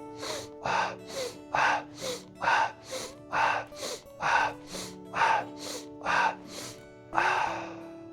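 Sharp nasal inhalations during a Strelnikova breathing exercise with a backward step: about a dozen quick, loud sniffs in a steady rhythm, close and clear, over faint background music.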